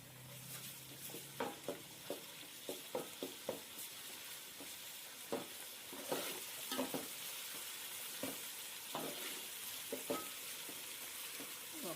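Ginger added to a hot frying pan for chicken biryani, a soft steady sizzle with scattered scraping taps of a spoon stirring, quiet and close with no speech.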